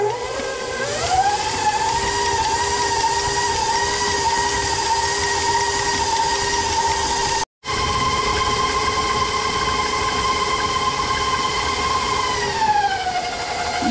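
Electric mixer beating brown butter with brown sugar, white sugar and salt on medium high: a loud steady motor whine that ramps up, holds, briefly stops and resumes, then winds down.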